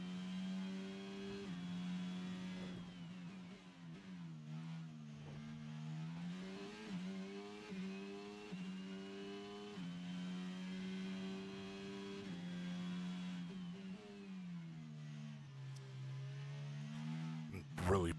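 Race car engine in a racing video game on the Monaco street circuit, a sustained whining drone that rises and dips with shifts and throttle, steady and prominent throughout with no talk.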